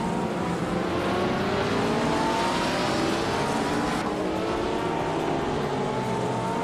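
A 1962 Lotus 2.5 race car in a racing video game roars at sustained high revs with other cars close by, a loud continuous engine drone with shifting pitch and no pauses.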